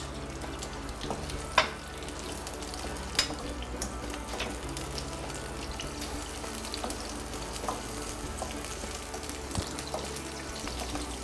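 Food fries in a pan with a continuous moderate sizzle and a low steady hum, with a few sharp clinks of a spoon on the pan standing out over the hiss.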